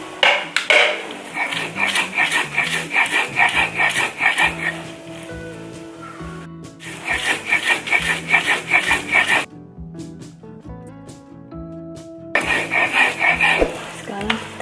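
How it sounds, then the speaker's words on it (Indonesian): Shallots being ground by hand for an Acehnese white chicken liver curry, rhythmic rough rubbing strokes against a grinding stone in repeated bursts separated by short pauses, with clinks of kitchenware and low background sounds. "Sekarang kita giling bawang merahnya."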